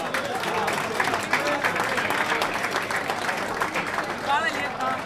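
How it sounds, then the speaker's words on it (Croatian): An audience claps at a music awards ceremony after a group is handed a second prize, a dense, continuous roar of hands sustained for several seconds with voices mixed in. "jaki aplauz vam"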